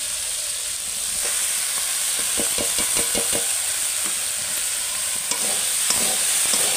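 Spinach and potatoes are stirred in a frying pan for a spinach and prawn curry: a constant sizzle with a quick run of rhythmic scraping strokes early on, then a few scattered scrapes and taps.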